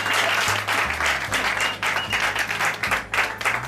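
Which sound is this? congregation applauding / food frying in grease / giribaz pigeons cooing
congregation applauding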